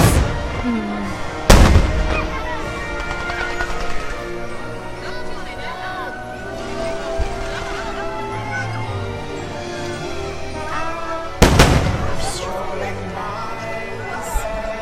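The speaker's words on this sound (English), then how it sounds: "It's the proscenium fireworks. It's the fireworks that you can see from the hotels." Proscenium fireworks at Walt Disney World, the kind visible from the resort hotels, thud with two deep booms against a continuous rumbling crackle, heard from a distance with voices and crowd noise around.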